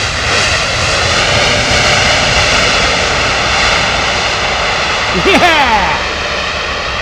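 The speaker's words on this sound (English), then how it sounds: "Angry reversers, maybe?" A jet airliner lands in heavy rain, its engines roaring loudly and steadily as the thrust reversers spool up. A voice cheers briefly near the end.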